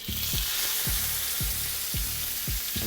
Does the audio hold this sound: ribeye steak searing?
yes